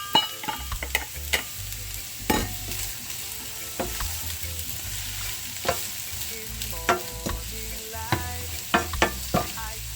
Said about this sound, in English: I'm gonna saute my onion a little bit before I add my garlic and green onions.